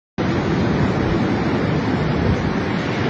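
Ocean surf roars steadily at the seashore, a loud, dense wash of breaking waves mixed with wind buffeting the microphone, starting abruptly after a brief silence and continuing without pause.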